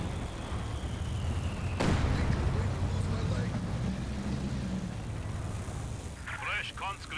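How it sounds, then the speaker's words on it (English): Mortar artillery fire in the World War II strategy game Company of Heroes 2, with one sharp, loud impact standing out over a dense, continuous rumble of battle noise and commentary speech. "Mortar trying to stop him."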